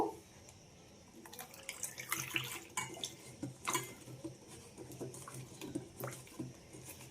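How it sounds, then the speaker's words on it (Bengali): Spiny gourds (kakrol) being washed by hand in water, with faucet-like splashing and sloshing that rises and falls over several seconds, brief louder splashes standing out against a steady wet background. "এবার কাঁকরোলগুলোকে খুব ভালোভাবে ধুয়ে নেব।"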